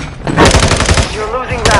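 Rapid gunfire bursts in a Modern Warfare II Spec Ops match, loud and close, rattling through most of the moment with voices talking over it.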